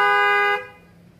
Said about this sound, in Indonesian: Klakson pakai Denso waterproof.